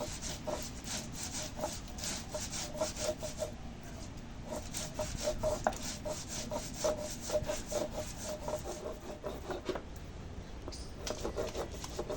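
Mustard seeds and green chilies ground by hand on a flat grinding stone, a steady back-and-forth rubbing and scraping rhythm that continues close and even throughout, with no talk.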